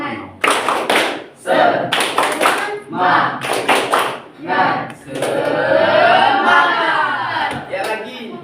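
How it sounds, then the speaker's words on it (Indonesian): Junior high students in a classroom at SMP IT Al Kahfi Sumbawa doing a rhythmic spirit-clapping ice breaker: several loud group bursts of clapping in quick patterns, followed by a sustained stretch of voices shouting together. "Ice breaking. Tepuk semangat"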